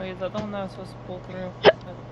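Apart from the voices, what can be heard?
hiccup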